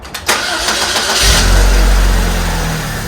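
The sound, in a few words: Saab 9-3 car engine starting and running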